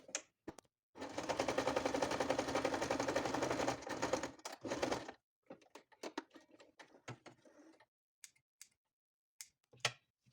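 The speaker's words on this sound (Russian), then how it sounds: "И прокладываю шов на машинке." A sewing machine stitching a patchwork seam, running in one steady fast burst of about four seconds, close and clear, followed by scattered clicks and handling taps.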